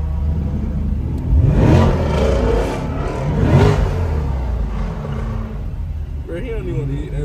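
Revs from a stock-exhaust Corvette C8 at a crowded Atlanta car meet, two loud swelling pulls about two seconds apart over a steady rumble, with people talking and shouting throughout.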